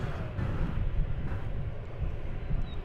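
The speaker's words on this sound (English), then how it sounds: "an MD-11 coming in from Louisville" An MD-11 jet arriving at DFW Airport, heard as a distant, steady low rumble of engine noise with some wind buffeting, with no talk.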